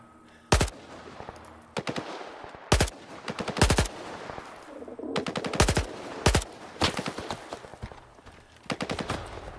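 Bursts of automatic gunfire from the video game STALKER 2, rapid sharp shots fired in several short volleys with pauses between them, fairly close and alone.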